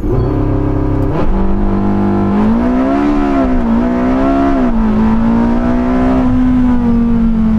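A Porsche 918 Spyder accelerates hard in a 0-96 km/h run on warmed tyres. The loud engine note climbs steadily and continuously for several seconds, heard close and without speech.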